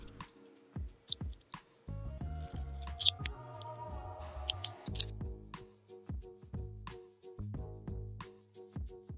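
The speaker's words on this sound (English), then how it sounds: "So I need to cut the perfect shape for the tray holder." Scissors snip through thin steel sheet cut from a can, a close series of crisp metallic clicks and crunching cuts in irregular bursts, with no talking.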